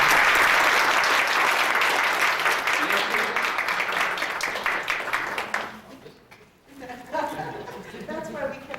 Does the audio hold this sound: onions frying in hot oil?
no